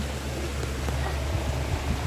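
Steady rain falling on a rainy morning outside a small neighborhood sari-sari store, a continuous broadband hiss with faint scattered drops, constant in level and without voices.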